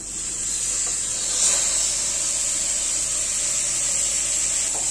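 Beef dropped into hot masala in a pan sizzles with a steady bright hiss that swells briefly near the start, then holds evenly with no talk.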